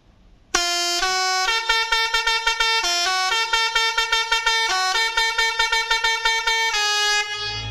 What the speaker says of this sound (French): on va tester le klaxon qui est juste en haut